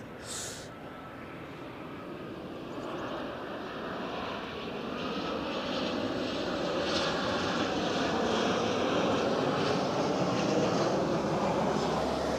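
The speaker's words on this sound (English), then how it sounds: "Thought I could hear a plane." Airplane at Barcelona El Prat airport, a steady jet engine roar that swells gradually louder over about twelve seconds as the aircraft approaches, heard alone without talk.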